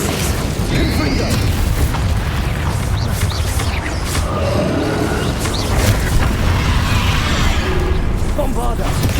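Bombarda and Confringo spell explosions in Hogwarts Legacy battle, repeated booms and bursting pops layered over constant combat noise, with a voice speaking over the blasts throughout.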